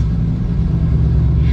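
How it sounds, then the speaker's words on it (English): A Mustang GT fitted with a Cobra Sport H-pipe exhaust runs with a loud, close, deep and steady rumble that holds without a break. "I'm about to start it up for the first time after having this H-pipe done,"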